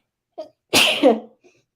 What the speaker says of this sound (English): I didn't mean to sneeze there